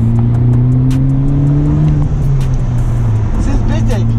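A Honda Type R engine revs up, a steady low drone with rising harmonics that swell and climb as VTEC engages, heard loud and close with people talking over it.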